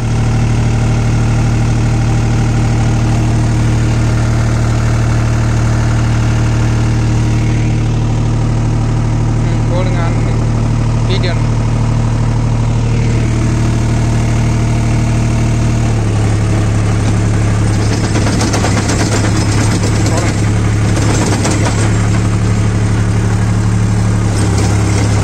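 A New Holland 5510 Excel 4WD tractor engine idles with a loud, steady low rumble and heavy vibration, its pitch shifting slightly partway through as faint noise rises over it.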